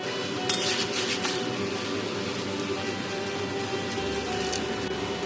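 Bathua greens (beto shak) are stirred in a cooking pan, with a steady sizzling hiss throughout and a few soft scrapes and clinks of a utensil against the pan close by.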